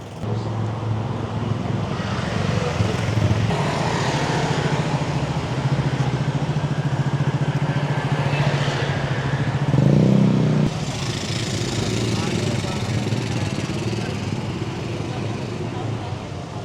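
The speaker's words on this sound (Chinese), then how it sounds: "可以看到都是摩托车，印度尼西亚也是一个摩托车大国。" Steady street traffic in Jakarta, Indonesia, with motorcycle engines droning and revving nearby, a continuous busy roar throughout.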